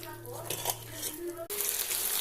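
Marinated chicken pakoda pieces coated in cornflour and egg drop into hot oil, and a bright, loud sizzle breaks out abruptly and holds steady, after a stretch of quieter kitchen noise under a voice.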